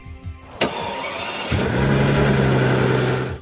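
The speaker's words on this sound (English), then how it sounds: "Every time you start the S65, that V12 starter sound is very satisfying." A Mercedes S65 AMG W220 V12 engine starts with a sharp click, a brief starter whir, then catches and flares into a loud, smooth, steady idle close to the car.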